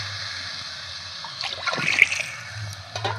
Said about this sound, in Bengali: এর সাথে পানি অ্যাড করে নিচ্ছি।